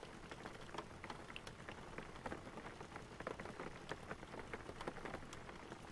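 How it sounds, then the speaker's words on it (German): Rain falls in the video game Schmuggel Simulator, a faint, even patter of many small drops on hard surfaces, continuous and without voices. "In diesem Spiel regnet es überall."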